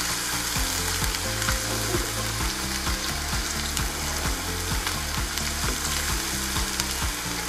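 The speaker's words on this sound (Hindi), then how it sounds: "इसकी बुनाई अच्छी तरह कर लेते हैं ताकि हमारी अदरक लहसुन की जो खुशबू है वो आने लग जाए" Ginger-garlic paste sizzles and fries steadily in a pan while being sautéed for a mutton kofta curry, a dense continuous hiss with a rhythmic low thumping beneath it throughout, no voices.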